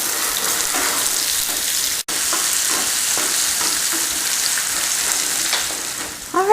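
Bell pepper and mixed vegetables sautéing in a pan, a steady bright sizzle with a brief cutout as the pan is flipped and tossed, scraping stir sounds scattered throughout.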